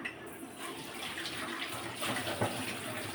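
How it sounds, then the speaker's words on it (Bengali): Running tap water splashes steadily while cooking pots and dishes are washed in a home kitchen sink, a soft continuous gush with faint clinks, no talking. "রান্নার সময় যে থালা বাসনগুলো হয় সেগুলো এই তো সবগুলা কিন্তু আমি ইয়ে করে নিচ্ছিলাম এই তো ধুয়ে নিচ্ছিলাম"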